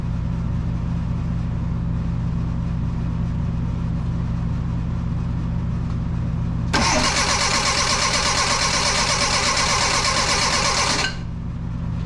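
A 1984 Bertone X1/9 engine cranks from a remote starter: a steady, loud, fast churning whir kicks in partway through over a constant low hum, runs for about four seconds without catching, then stops.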